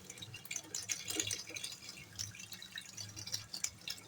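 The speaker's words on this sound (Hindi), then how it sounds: "देखिए मैंने सारी इसमें से यखनी ड्रेन कर ली है।" Beef yakhni broth drains from a pot in a home kitchen, giving a steady close trickle and dripping of liquid with soft splashes, no talking over it.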